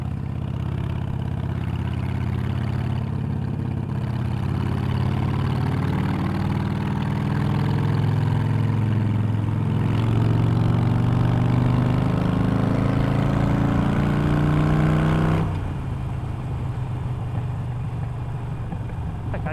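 A Harley-Davidson Iron 883 motorcycle engine runs close by, a loud, steady low rumble that rises slightly in pitch midway and then drops back abruptly near the end.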